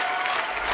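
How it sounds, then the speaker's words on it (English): An audience cheers and applauds in a dense, steady wash of clapping, brief and loud. "you guys are just cheering over me"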